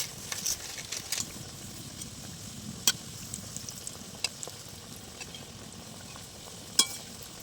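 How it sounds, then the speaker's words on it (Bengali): Khaja pastries frying in hot oil, a steady soft sizzle with light bubbling throughout and a few sharp clinks of a utensil against the pan. "বাকি খাজাগুলো একই রকম করে আমি ভেজে নেব।"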